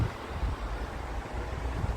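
Steady wind gusting across the microphone on a walk beside a small man-made river in Dorchester, with a continuous low rumble and buffeting that fills the whole span and no voices.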